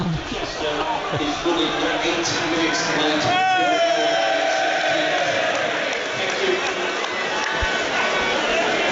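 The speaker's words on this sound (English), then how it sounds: "It was greeted with a big cheer from behind us." A football crowd at Wrexham's stadium during a match against Notts County roars with a broad, sustained cheer behind close commentators who talk over it throughout.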